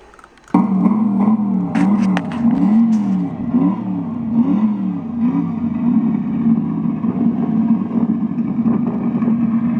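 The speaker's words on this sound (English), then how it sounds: "This is a real 1965 Mustang Shelby GT350 4-speed." A 1965 Ford Mustang Shelby GT350 with a 4-speed fires up and revs loudly, its V8 engine rising and falling in several strong pulses before holding at a rough, steady idle, close and with no voices.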